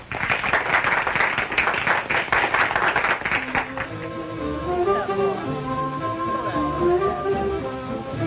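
Audience applause at a 1945 stage show, a loud dense burst of clapping for about four seconds that fades out as band music takes over underneath.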